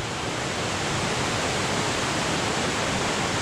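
A river flowing at Pattunuang in Maros, Sulawesi, a close, steady rushing wash of water with no variation and no voices.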